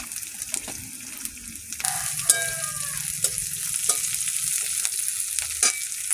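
Panch phoron, a five-spice mix, is tipped into hot oil with green chillies and bursts into a steady, close sizzle that continues evenly after the spices hit the pan.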